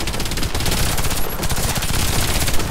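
Rapid automatic gunfire from a Kriss Super V in the video game Warface rattles in dense, continuous bursts, loud and close, with no pauses.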